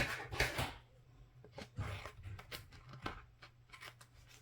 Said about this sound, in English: I'll trim that off.